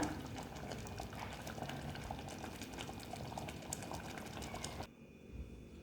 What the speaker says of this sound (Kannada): ಗೊಜ್ಜು ಸ್ವಲ್ಪ ಕುದೀತಾ ಇದ್ದಂಗೆ ಇದಿವಾಗ ಆಫ್ ಮಾಡಿಬಿಡೋಣ